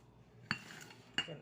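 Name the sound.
mixing chopped onion into filling in a bowl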